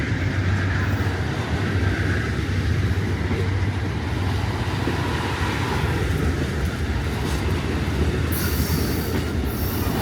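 The California Zephyr passenger train rolls past close by in Glenwood Springs, Colorado, a continuous heavy rumble of wheels on rails with faint squeals and clatter throughout.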